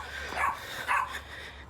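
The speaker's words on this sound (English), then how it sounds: "I think you can hear the dog barking." A dog barks twice, separated by a short pause, at moderate distance outdoors.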